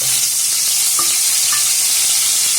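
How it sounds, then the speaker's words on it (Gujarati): Loud, constant crackling sizzle of garlic paste hitting hot oil, with a couple of faint clinks from a utensil; no one speaks. "એની અંદર આપણે આ રીતે પાતળું લસણની પેસ્ટ કરેલી હોય એ નાખી દેવાની"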